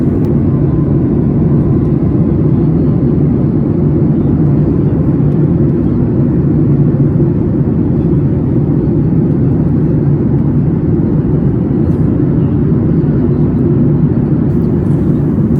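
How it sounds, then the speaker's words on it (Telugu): An airliner's engines roar steadily at high power during the takeoff run on a flight from Hyderabad to Goa, a loud, constant, unbroken drone heard from inside the cabin. "ఇంజన్ పవర్ పెంచగానే ఒక పులిలా గర్జిస్తుంది"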